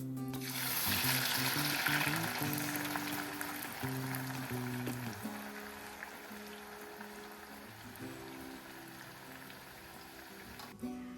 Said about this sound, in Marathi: कांदा जास्त पण लाल करायचा नाहीये, आपल्याला असाच कलर होईपर्यंत तळायचा आहे